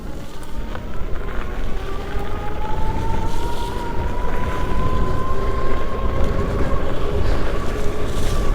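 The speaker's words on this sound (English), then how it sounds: "I really love the acceleration of this bike." A Lankeleisi X3000 Max dual-motor 48 volt electric bike accelerates, its motor whine rising steadily in pitch over rushing wind and road noise.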